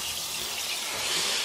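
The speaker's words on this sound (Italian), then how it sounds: "Shower time" Shower water runs in a steady, loud hiss that fills the whole moment without pause, close by and with no voices over it.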